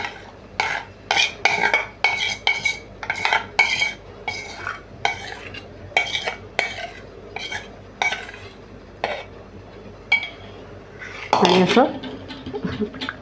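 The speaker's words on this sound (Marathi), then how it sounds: "पटकन उरलेलं बॅटर ट्रेमध्ये घालते" Leftover khaman dhokla batter is poured and scraped into metal trays, with quick clinks and scrapes of a spoon against metal coming in short, close bursts.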